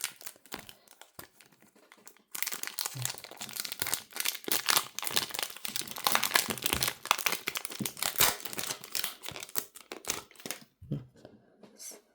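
Crinkly plastic packaging of a trading card packet rustles and crackles up close, in bursts of handling with brief pauses, ending in a few sharp tearing crinkles.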